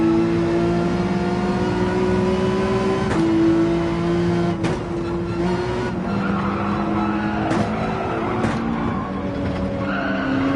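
A race car in a racing video game screeches as its tires lose grip, a steady engine drone running under several sharp squealing bursts throughout.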